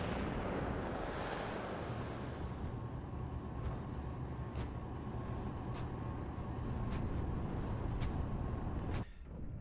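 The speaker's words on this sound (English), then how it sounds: "You see some artillery from Com 3 coming in." Artillery fire rumbles through a WARNO real-time strategy battle, with a continuous roar of distant explosions punctuated by several sharp, regularly spaced blasts, steady and fairly loud, with no speech.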